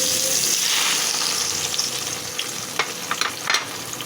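Liver sizzling and frying in hot oil in a home kitchen, a steady crackling hiss that settles into scattered pops and spatters near the end, with no one speaking.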